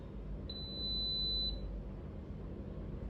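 A single high electronic beep sounds for about a second over a low background hum as a device is switched off, then stops.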